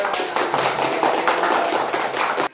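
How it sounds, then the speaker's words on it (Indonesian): A group of classroom students clapping briskly in a steady patter for a couple of seconds before it cuts off abruptly. "Masya Allah, tepuk tangan."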